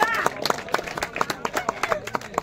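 Crowd applause for a young cricket player at a local premier league tournament, a burst of clapping with scattered claps and crowd noise, an announcer's voice talking over it.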